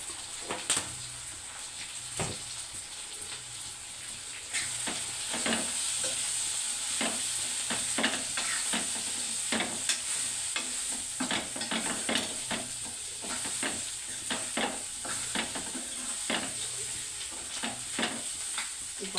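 Dried red chillies and chili powder frying in a pan, a steady crackling sizzle with frequent sharp pops and spoon scrapes scattered throughout, close and moderately loud.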